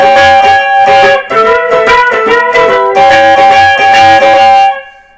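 An electric guitar plays a quick lick of picked notes with wavering string bends, bright and up close, ending on a ringing held note.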